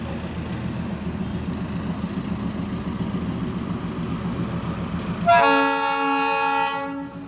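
A new diesel locomotive rumbles steadily nearby, then its horn blasts in at about five seconds, one loud sustained chord of several tones held for over a second before cutting off.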